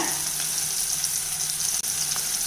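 Brinjal pieces sautéing in oil with chili powder, a dense, even, close hiss of frying that holds steady for a couple of seconds with one tiny break, no stirring knocks and no talk.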